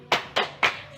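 Three sharp, evenly spaced group claps from a room of mothers doing a "tepuk salut" clapping routine, crisp and close with brief silence between them.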